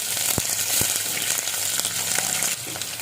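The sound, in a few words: cumin, urad dal and onions frying in oil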